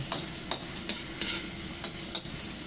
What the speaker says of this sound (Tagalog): igisa na natin. Kasi konting mantika.